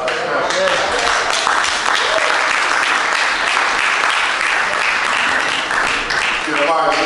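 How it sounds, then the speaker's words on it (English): A crowd at a Friday night poetry showcase bursts into loud, sustained applause, close and continuous throughout with cheering voices mixed in. "Give a round of applause, everybody."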